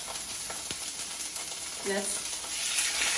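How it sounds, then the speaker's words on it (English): Barramundi fillet sears skin side down in a hot pan, giving a steady moderate sizzle and hiss, with a couple of soft utensil clicks and a brief voice-like tone partway through. "we're going to sear it on the skin side first, just to get a nice crispness"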